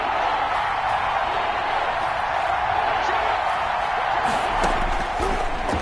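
Steady, dense stadium crowd roar from a PlayStation 4 football video game with the Bucs on the field, building on a big third down; the crowd noise holds at a constant level throughout with no distinct claps or shouts standing out.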